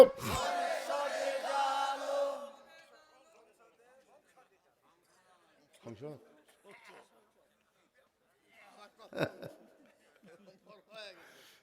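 A crowd at an Islamic sermon gathering shouts takbir together, a loud unified cry lasting about two seconds, followed by near silence and then faint speech from a man.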